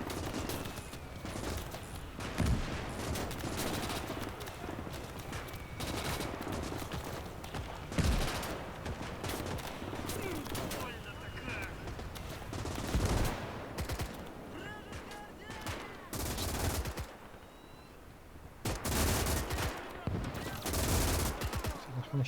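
Machine gun fire in a WWII real-time strategy battle, long stretches of rattling automatic bursts and scattered shots with heavier thuds, continuous and dense throughout with a voice talking over parts of it.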